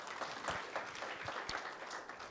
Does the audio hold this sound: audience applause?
yes